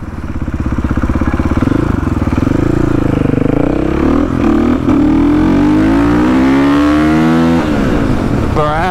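A motorcycle engine revs hard while riding on a road in Mexico, loud and close, its pitch rising and falling through gear changes for about nine seconds with no speech over it.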